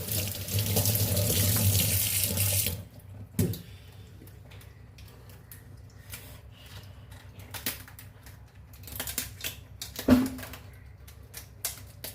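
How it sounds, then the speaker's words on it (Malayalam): A tap runs into a sink while crabs are scrubbed clean with a brush beside the pipe, a steady rush of water for the first few seconds, then quieter clinks, handling noises and trickling, with one sharp knock near the end. "എല്ലാം കഴുകി വൃത്തിയാക്കണം പൈപ്പിൻ്റെ അടുത്ത് വെച്ച് ബ്രഷ് വെച്ച്"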